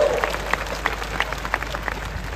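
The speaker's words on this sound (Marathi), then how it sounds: "आमदार संग्राम दादा जगताप यांच्यासाठी जोरदार टाळ्या झाल्या पाहिजे." A crowd claps steadily at a Hindu religious lecture, a dense patter of applause at moderate distance that carries on throughout.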